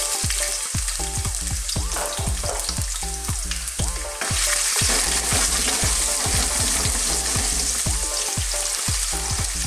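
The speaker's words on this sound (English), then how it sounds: "I've got a little touch of oil in there that I'm trying to get really, really hot. What we're going to do is start off putting our garlic and ginger in." Garlic and ginger fry in a little very hot oil for Chinese sweet and sour fish, making a loud, dense, continuous sizzle up close with repeated rhythmic clacks of a utensil against the pan throughout.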